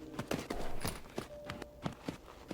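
Horse hooves clip-clop in steady walking rhythm in the video game Tales of Rein Ravine, crisp close footfalls with soft snorting and tack noises between them, no talking.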